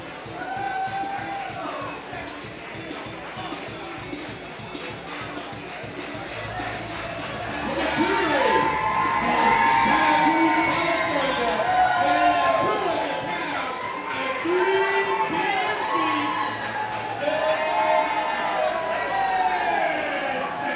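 Wrestling event crowd at a Thursday Night Throwdown show, a steady arena roar of cheering and chatter that swells louder midway and stays high, with scattered whoops and shouts throughout.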